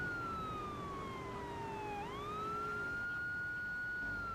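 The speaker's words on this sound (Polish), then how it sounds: "Łączymy sobie syrenę." A police car siren in the video game Grand Theft Auto III wails in a slow rising and falling tone, steady and prominent over a low engine hum, with no talking.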